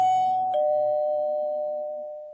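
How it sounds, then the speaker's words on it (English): A doorbell rings at an apartment door, one clear bright chime that rings out and slowly decays over a couple of seconds, heard alone with no talking. "rang the doorbell"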